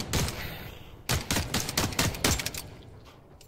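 Pistol hip-fire in The Cycle Frontier: a tight string of sharp gunshots cracks out close and loud in quick succession, then tapers off into quieter ambient hum, with no voices.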